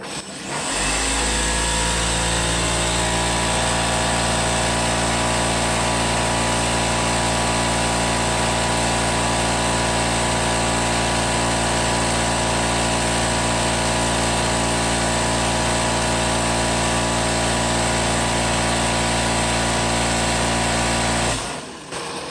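A 12.6mm stroker CP3 fuel pump runs on a test bench at 3,500 RPM, a loud, steady mechanical drone and whine that holds unchanged throughout before cutting off at the end.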